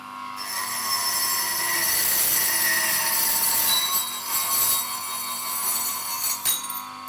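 A Proxxon KGS 80 chop saw cutting through an aluminium workpiece: a loud, sustained high-pitched metallic screech and whine from the blade, steady for several seconds with a few dips near the end, no talk.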